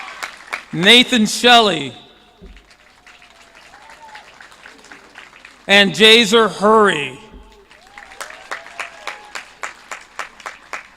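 Applause and scattered cheers for students graduating from Kaiserslautern High School. An announcer reads names aloud over the clapping crowd, which keeps going between and after the names.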